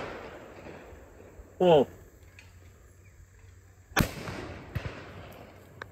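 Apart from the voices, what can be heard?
double-barrel shotgun firing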